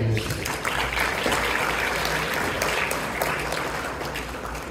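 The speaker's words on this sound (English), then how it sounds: "please, a big round of applause for the volunteers" Sustained audience applause for volunteers at a community helpers event, a dense crowd of clapping hands that holds steady and then tapers slightly toward the end.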